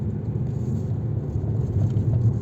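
A Fiat Egea Cross Urban 1.4 climbs a winding mountain road toward Palandöken in fourth gear, its engine a steady low rumble heard from inside the car, with no talk.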